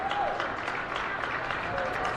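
A student section at a high school volleyball match in a gym cheers and claps as a dense, steady crowd wash, with an announcer talking over it.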